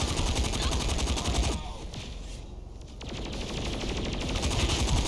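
Rapid automatic gunfire in Saints Row 4 rattles loud and close in sustained bursts, breaks off briefly in the middle, then resumes with steady repeated shots.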